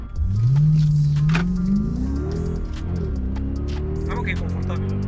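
Mercedes car driving along, its engine note rising and settling in a smooth hum close inside the cabin, with occasional faint clicks and people talking over it.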